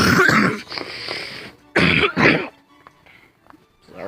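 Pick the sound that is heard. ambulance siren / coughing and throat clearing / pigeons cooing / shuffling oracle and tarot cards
coughing and throat clearing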